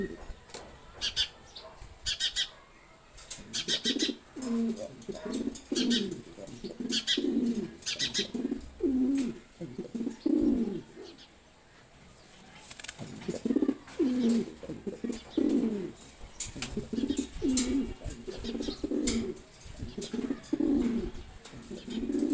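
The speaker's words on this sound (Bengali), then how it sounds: "এবং খুবই রাগী একটা কবুতর।" Red checkered pigeons cooing close by, a male repeating low rhythmic coos in two long bursts separated by a short pause.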